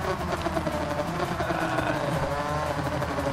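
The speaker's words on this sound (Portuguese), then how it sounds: "O barulhinho da moto é muito legal." Suzuki RGV 250R motorcycle engine in the racing video game Ride 2 at the Nürburgring, a steady, loud high-revving buzz that holds continuously throughout with no pauses.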